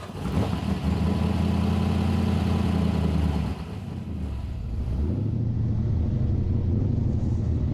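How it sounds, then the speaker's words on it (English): A V8 engine in a vintage aluminium-bodied car rumbles close and loud, its deep steady idle briefly easing before settling back into a firm throb. "There's nothing like the rumble of a V8."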